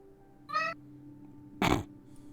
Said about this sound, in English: Your cat is not quiet.